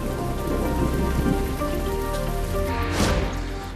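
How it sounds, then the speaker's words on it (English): Heavy rain pours down at the Sturgis motorcycle rally, a dense, loud, steady hiss of drops on surfaces, briefly swelling into a brighter gust of spatter near the end. "It happens every year at Sturgis, it rains"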